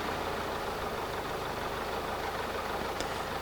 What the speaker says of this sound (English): make sure the engine runs fine.